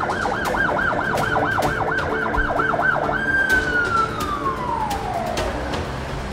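Ambulance siren wailing loud and close, a rapid rising-falling sweep that shifts into a steady tone gliding downward as the vehicle passes, over constant traffic rumble.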